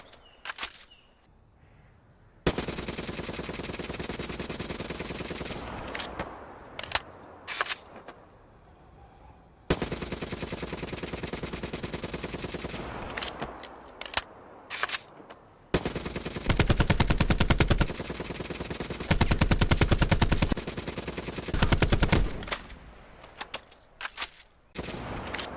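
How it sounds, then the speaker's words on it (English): ICR7 and ICR1 assault rifles from Black Ops fire in long, rapid automatic bursts, loud and close, separated by short pauses and small clicks. "those were the two guns that we'll be comparing, the ICR7 and its predecessor, the ICR1"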